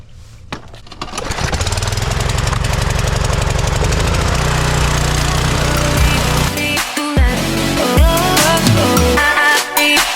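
A Mitsubishi engine cranks and catches, then runs loud and close with a rough, steady throb that rises and dips as the revs change, alone without talk.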